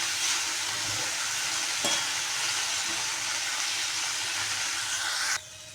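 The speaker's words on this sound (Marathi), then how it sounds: "मसाले आपल्याला छान परतून घ्यायचे आहे" Spices with red chili powder and crushed peanuts sautéing in a pan for a flat bean curry, a loud continuous close sizzle with a couple of stirring knocks, cutting down sharply near the end.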